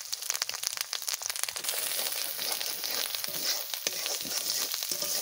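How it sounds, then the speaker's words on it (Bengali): Ground coriander, chilli, turmeric and salt frying in a pan for a jackfruit curry, a bright continuous sizzle with crackling pops and scraping stirs, close and steady throughout. "দেখো মশলা ভাজা ভাজা হয়ে গেছে, কত সুন্দর ভাজা হয়ে গেছে মশলা"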